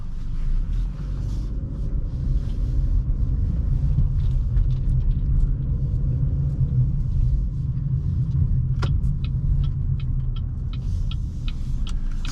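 2018 Buick Encore driving at night, steady low engine and road rumble heard from inside the cabin, constant and fairly loud with faint ticking near the end.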